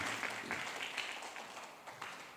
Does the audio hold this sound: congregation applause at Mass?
yes